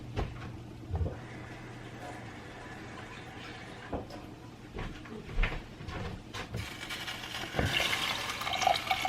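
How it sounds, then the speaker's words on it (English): Water poured into a pan of homemade enchilada sauce in a home kitchen, a faint trickling and splashing with small knocks and clatters, growing louder toward the end with no talk. "I am gonna add a little bit of water and salt, and this will start to thicken up."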